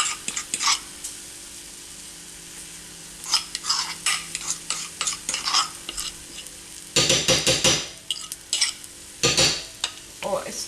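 A chickpea flour wrap cooking in a pan: a quiet background sizzle under intermittent scraping and clattering of a utensil against the pan, with louder bursts of handling and sharp contact noises in the second half.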